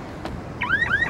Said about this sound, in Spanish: Se quedó pegada la alarma.